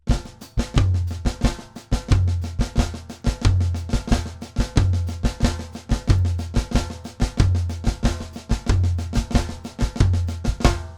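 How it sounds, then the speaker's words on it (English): A drum kit playing a Pataflafla samba groove over a steady foot pattern, with a floor tom on beat 2; loud, close, evenly repeating strokes with booming low tom hits in a regular two-beat cycle. "this time I'll play that Pataflafla with the floor tom on beat 2 on top of that foot pattern"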